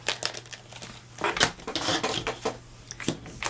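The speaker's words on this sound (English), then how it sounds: "now we're going to cut all these out with the die" Paper card shapes cut with a metal die, a series of close, sharp clacks, crinkles and rustles at an irregular pace, with no talking.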